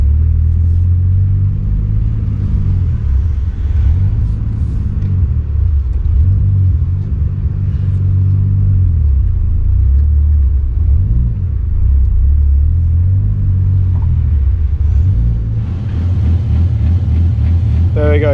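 A Ford FG XR6 Turbo with its Barra turbo six idles steadily up close, a deep continuous rumble with slight swells in pitch, carrying on alone for the whole stretch.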